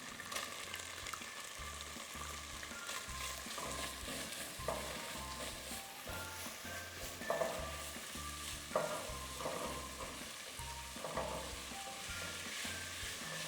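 Onion frying in a pan, a continuous close sizzle with repeated stirring scrapes and occasional louder clatters, steady throughout with no talking.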